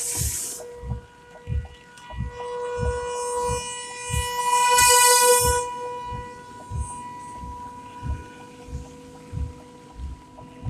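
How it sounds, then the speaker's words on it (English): Outdoor tornado warning siren sounding during Great Plains storm chasing, a sustained tone heard inside a moving vehicle with rhythmic thumps and a hissing burst midway. "Tornado siren."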